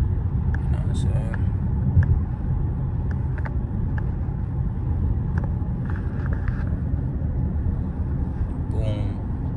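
A Mercedes-AMG GLE 53 cruises through night traffic, its cabin filled with a steady low engine and road rumble, with brief higher sounds and what seem to be voices breaking in now and then.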